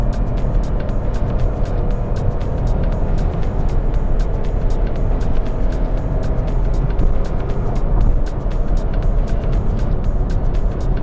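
A Nissan Magnite compact SUV cruises in fourth gear on a highway alongside traffic and trucks, with a steady, fairly loud drone of engine and road noise from inside the cabin that runs without a break.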